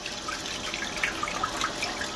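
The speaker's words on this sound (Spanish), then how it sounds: "Ahora estamos recibiendo el agua" Water running from the tap of a gas water heater, a steady moderate splash and trickle into a sink with faint dripping highlights, heard alone.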